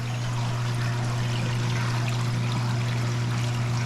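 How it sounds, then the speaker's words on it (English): Water flows steadily through a DIY filter with its ball valve fully open, making a continuous rushing trickle with a low steady hum underneath, close by and unbroken. "I've got the ball valve all the way open on this one"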